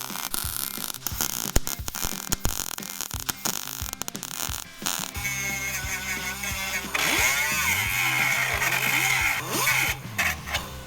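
Welding on the passenger side of a Jeep produces a crackling, buzzing arc with irregular bursts early on, then a louder, more continuous hum and hiss with shifting tones toward the end.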